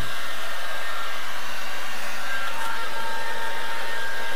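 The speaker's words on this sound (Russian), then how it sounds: "вентилятор теперь дует, а нить накала там выключена и остывает" A steady, even whoosh from a blower fan running with its heating element switched off, loud and close, continuing unbroken with no talking.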